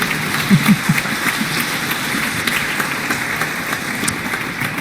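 Audience at an award ceremony for greenhouse gas reduction trophies applauding during a photo, a steady patter of clapping at moderate distance, fairly even and rain-like, with a few brief voices early on.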